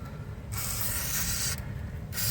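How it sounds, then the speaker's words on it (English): WD-40 sprayed onto stuck brake parts on a 1993 Buick LeSabre, two loud close hissing bursts, the first longer than the second, with a brief pause between them. "Just putting a little bit of WD-40 in here and behind it."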